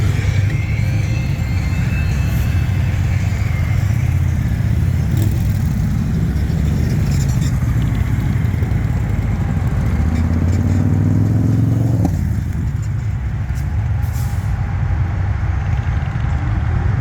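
An Indian motorcycle engine idles steadily and loud for the full stretch at the St. Paul dealership before a Sturgis ride, a low continuous rumble with clattery texture and other traffic blending in.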